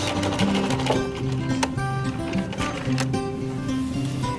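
A sewing machine back stitches through fabric with a steady mechanical whir and rapid, evenly repeating stitch clatter, close up and continuous throughout.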